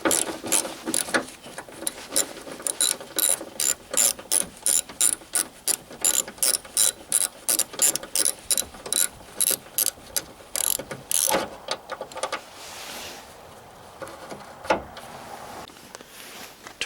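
12mm ratchet clicking in quick, even repeated strokes on the lower hood lift support bolt of a 2000 Toyota Camry XLE V6, close and crisp, slowing and fading into quieter handling noises near the end.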